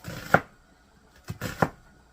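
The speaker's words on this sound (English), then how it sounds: "And I'm going to slice up some onions." A knife slices onions on a cutting board in a home kitchen with a few separate, crisp chopping taps.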